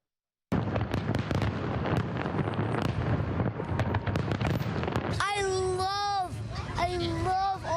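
Rapid crackling bursts and booms of fireworks going off continuously over the Detroit River, with children's voices and cheering rising near the end over the noise.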